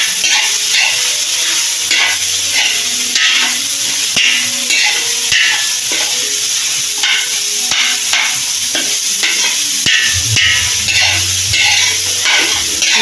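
Pancit noodles stir-fried in a large, oversized pan keep up a loud, continuous sizzle with steady scraping and clanking of a utensil, broken by occasional sharper knocks against the metal.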